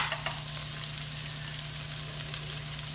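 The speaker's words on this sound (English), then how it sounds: "I'm going to go ahead and add a little bit of garlic." Garlic sizzles in a hot skillet while sausage, jalapeño and cornbread mixture cook, a steady close hiss of frying with a low electrical hum beneath and no voices.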